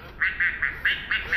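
An Aflac interactive toy duck quacks six times in quick succession, giving short, bright, electronic quacks in an uneven rhythm, close and clear with no talking.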